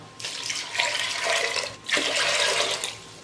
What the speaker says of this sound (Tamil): தேவையான அளவுக்கு தண்ணி சேர்த்துக்கலாம்.